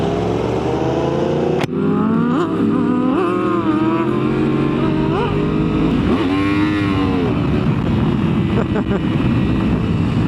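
A 2024 Yamaha R1M sport motorcycle roars and revs up and down while riding at night, with rising and falling exhaust tones and steady road and wind noise.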